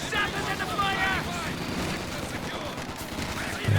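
Gunfire crackles in a Company of Heroes 2 2v2 match, a steady dense battle din with rapid bursts that fit a machine gun, mixed with a commentator talking throughout.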